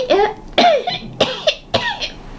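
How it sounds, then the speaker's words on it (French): Four harsh coughs come up close at roughly even intervals, each a sharp burst followed by a raspy voiced tail, with quiet gaps between them. "t'as commencé à tousser?"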